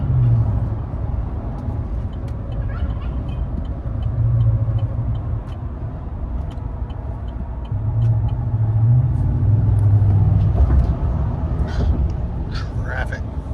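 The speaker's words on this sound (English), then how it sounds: "That's the idle speed" A heavy truck engine with a Flowmaster exhaust rumbles steadily at idle, low and throbbing, with people talking over it.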